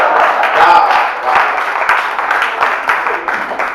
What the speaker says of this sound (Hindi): इस पंक्ति पर आप सभी की तालियां चाहता हूं